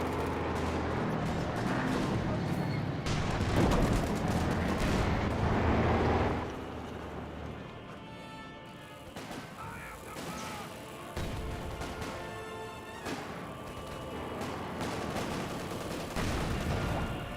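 Tank cannon fire and combat between a Cromwell and a Panzer IV in the Company of Heroes 2 video game, a dense, loud barrage of booming shots and gunfire that continues throughout with no talk.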